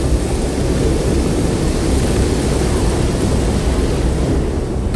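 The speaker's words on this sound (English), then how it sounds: "The storm passes over" Strong gusting wind roars steadily through a thunderstorm passing over an open field where a balloon is held down, a dense broadband rush filling the whole stretch with no voices.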